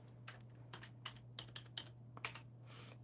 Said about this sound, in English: Let me type in hello